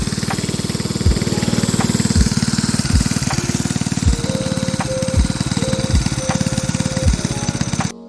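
A small go-kart engine on an F.W. and Associates Mini Cars kart with a slightly sticking clutch runs steadily at close range, a loud continuous buzzing drone with faint periodic knocks and no talk.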